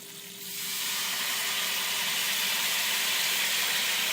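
Brandy poured into a hot pan bursts into a loud, steady hissing sizzle that swells within half a second and keeps going close up, with no talking.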